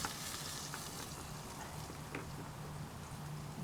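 Onion frying in a pot over an open campfire outdoors, a steady soft crackling sizzle with faint pops, low and continuous, no talking.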